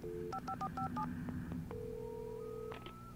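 A video game phone keypad beeps through a quick series of dial tones, followed by a steady ringback tone, quiet and clean.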